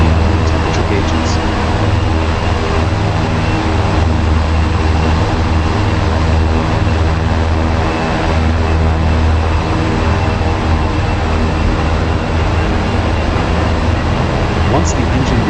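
An OV-10 Bronco turboprop engine runs up during a start in the DCS flight simulator, a steady loud droning whine with a low rumbling hum underneath, while a voice gives instructions over it.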